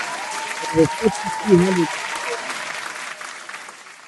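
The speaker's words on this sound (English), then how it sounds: "I got to give you people, my people here, Reprobates, Turtle Riders, a round of applause" An audience at a fundraiser event applauds steadily and loudly throughout, with a voice speaking over the clapping and cheering.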